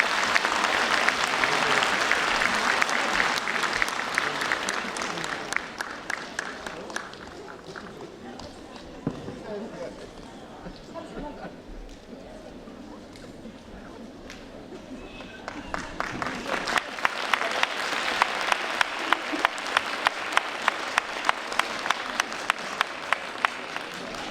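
An audience applauds a children's choir from a music school at a choral event in Khobi, with loud sustained clapping that fades and then swells again, and an announcer's voice speaking over the middle of it.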